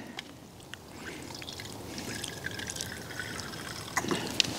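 Alcohol trickles and splashes steadily into a small camping alcohol stove, with faint clinks and a few sharp taps toward the end.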